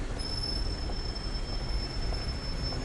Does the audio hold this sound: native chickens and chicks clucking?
no